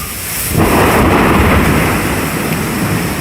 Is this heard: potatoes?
no